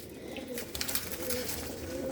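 Pigeons kept in a Punjabi breeder's loft give low, repeated cooing over a soft, steady background hum, with no talking.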